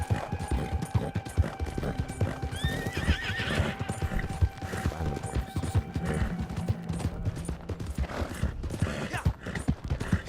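Horse in Red Dead Redemption 2 Online, hooves clip-clopping in a steady rhythm with a clear neigh or whinny partway through, over faint game ambience.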